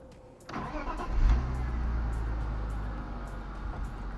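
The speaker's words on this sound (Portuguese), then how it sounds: "Vamos ver se ligando o carro está tudo ok." A car engine with a reprogrammed ECU cranks and catches after a half-second pause, then settles into a loud, steady low idle that holds without stalling.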